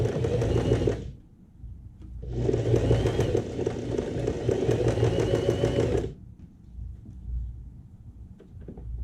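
A sewing machine stitches patchwork fabric in two loud, steady runs, the first about a second long and the second about four seconds, with quieter pauses between and after them.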